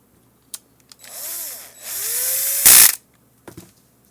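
A power tool drives screws into the panel of a ClearCom V-Series intercom, giving short rising whirs followed by a sharp loud burst, then quiet clicks and taps, with no one speaking.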